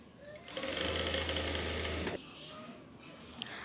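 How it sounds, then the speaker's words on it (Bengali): A sewing machine runs in one steady, even whir for about a second and a half while stitching a blouse neckline, then stops abruptly, leaving quiet room noise and a couple of faint clicks. "ব্যাস আমি পুরোটা গলা সেলাই করে আটকিয়ে নিলাম।"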